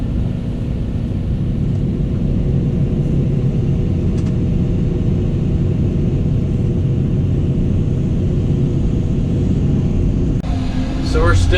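An earthmoving machine hauls topsoil for a new one-acre pond, producing a loud, unbroken low engine rumble that holds steady throughout.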